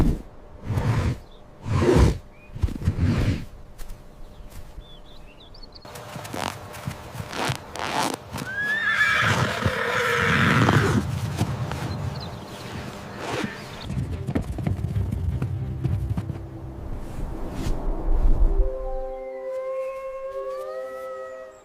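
Horses on a horse farm: a few heavy hoof thuds open the scene, followed by a long breathy, whinnying vocal swell, then quieter rustling as faint birdsong rises at the end.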